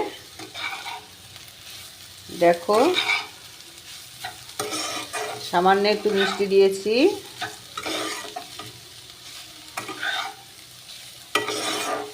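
Tender banana stem (thor) stir-fried in a pan on a gas stove with a little sweetener, the spatula scraping and tossing in steady strokes, close, while someone talks over it at intervals.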